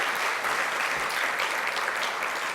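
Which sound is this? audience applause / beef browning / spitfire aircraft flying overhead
audience applause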